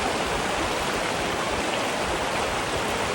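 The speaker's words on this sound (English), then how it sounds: "This river is incredible." A river in the San Juan Mountains rushes nearby with a loud, steady, broadband roar of flowing water. There is no speech.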